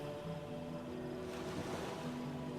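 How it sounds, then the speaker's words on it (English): Steady, continuous wash of water waves in the video game Divinity: Original Sin, with a boat nearby, rolling on without pause and with no voices over it. "I like that water effect"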